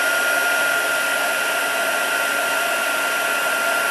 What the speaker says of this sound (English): you should always make sure your heat tool is hot before you introduce it to